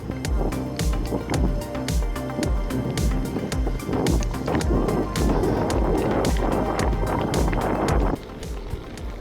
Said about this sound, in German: fahren wir jetzt mal auf Schotter